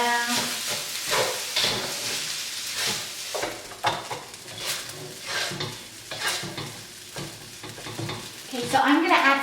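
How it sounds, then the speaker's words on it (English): Cold rice is stir-fried in a pan for nasi goreng, a close sizzle with irregular bursts of scraping and tossing as it is stirred, and no talking over it. "Oh, now I'm going to add my cold rice. Just whack it all in there. Give it a good stir around."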